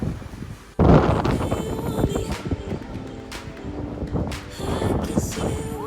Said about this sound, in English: It's very windy today, but it's a good spot.